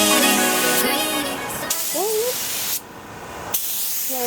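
Spray gun laying a clear coat onto a Toyota 4Runner during a restoration, a steady broadband hiss that holds strong then cuts out abruptly, with music and a brief voice underneath.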